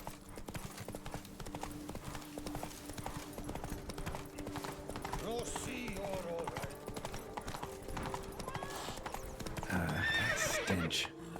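A horse trots with steady clip-clop hooves throughout in the video game The Witcher 3: Wild Hunt, under a faint background hum, with a whinny rising near the end.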